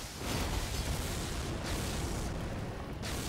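A magic weapon art explosion from an Elden Ring colossal-weapon build, a loud, sustained roaring blast with rumbling bursts that fills the whole stretch without letup.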